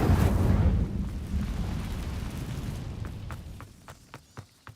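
Incendio fire spell cast in the video game Hogwarts Legacy, a loud whooshing burst of flame that fades into a rumbling tail, followed by a few sharp crackling pops.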